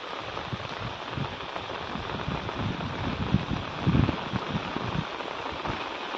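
Heavy rain falling in a village, a steady broadband hiss with dense drop patter and some low rumbling, continuous throughout with no voices.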